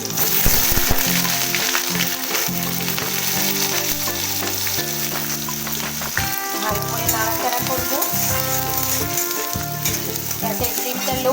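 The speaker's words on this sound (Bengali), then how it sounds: "এবার লাল লাল করে পেঁয়াজগুলো আমি ভেজে নেব" Onions and green chillies frying with cumin in a pan for a pointed gourd mash: a continuous, fairly loud sizzle with occasional stirring scrapes, over steady tonal sounds in the background.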